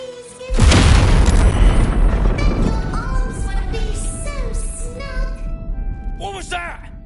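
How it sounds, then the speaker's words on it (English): A loud booming explosion in a video game bursts in sharply, then its rumble stays heavy beneath game sounds that continue through the rest of the clip. "From the sound of that explosion, I'm not surprised."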